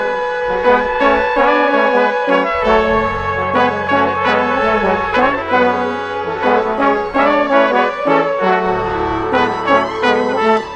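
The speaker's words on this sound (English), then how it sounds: "say you've got a big brass build-up thing like this." Brass section swelling in a build-up within an electronic music production, layered sustained horn chords over a low pad and driving rhythm, loud and dense throughout with no talk.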